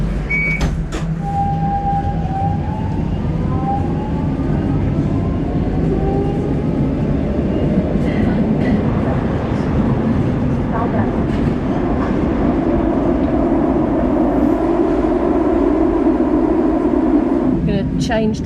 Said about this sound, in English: We're getting on the metro.